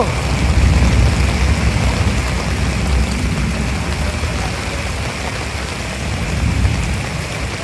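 Steady, heavy morning rain in Dhaka hissing and pattering across a flooded, knee-deep street, a dense continuous wash with a low rumble underneath and no voices.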